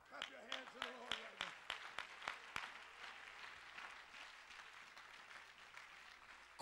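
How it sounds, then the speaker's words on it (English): A church congregation claps along with strong rhythmic beats while a voice speaks over them. The clapping then loosens into softer, scattered crowd noise. "Clap your hands to the Lord right now"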